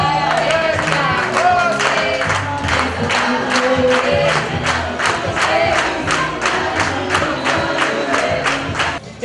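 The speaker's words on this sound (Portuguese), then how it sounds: "Vamos aplaudir ao Senhor?" A church congregation claps in a rhythmic, evenly spaced beat, with voices and cheering mixed in at moderate loudness throughout.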